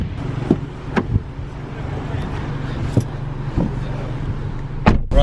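A 2018 VW Polo GTI with 200PS idles and pulls away at the start of a drive. A low engine hum sits under a few brief knocks and cabin noises, with a voice speaking over it.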